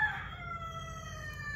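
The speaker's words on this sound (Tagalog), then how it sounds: "Yan, nag-agree manok." Rooster crowing close by, a single drawn-out call with a strong opening that holds steady and tails off over a low background hum.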